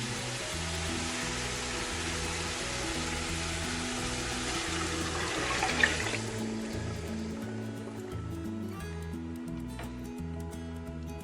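Mutton broth (yakhni) is poured into a pot of rice, a steady splashing rush of liquid that fades out partway through, with soft background music underneath.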